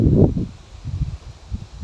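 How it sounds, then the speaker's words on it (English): Gusts of wind buffet the microphone in low, rumbling bursts, loud at the start and then recurring unevenly. "It's really windy. Is that fucking with the audio?"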